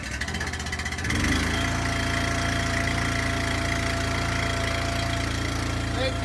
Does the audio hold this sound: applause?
no